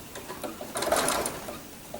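A sewing machine stitches binding onto a quilt at a steady pace, with its whirring motor swelling for a short run in the middle and then easing back down.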